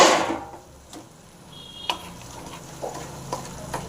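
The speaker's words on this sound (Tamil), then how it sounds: "ஒரு அஞ்சு நிமிஷம் வதக்கினா போதுங்க" Brinjal sautéing in a pan for a chutney, with soft sizzling and occasional stirring clicks and scrapes over about four seconds, fairly quiet and with no talk.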